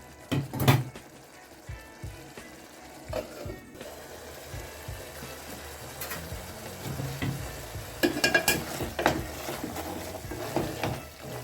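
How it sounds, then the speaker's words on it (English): Beef with tomato paste cooks in a pot with capsicum nearby, a soft sizzle under irregular stirring scrapes and metal clinks of a spoon against the pot, louder bursts around the start and near the end. "Then I'm going to let this simmer for about 2 to 3 minutes till my tomato paste is well done"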